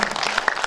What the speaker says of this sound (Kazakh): Қол шапалақтарыңыз.